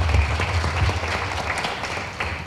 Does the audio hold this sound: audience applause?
yes